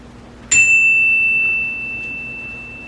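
A single chime is struck once, a clear metallic ding that rings out and slowly fades, alone in a quiet room.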